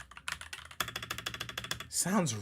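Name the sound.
typing on Redragon transparent keyboard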